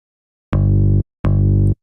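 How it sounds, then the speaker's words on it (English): Two separate synthesized bass notes with a sampled pick attack at the start of each, every note about half a second long with a sharp onset and abrupt stop, loud and close with silence between them. "we're now getting the sound of the pick attack"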